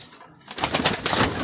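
An old female fancy pigeon coos nearby, a soft burst of rounded calls that starts after a short quiet moment and repeats quickly.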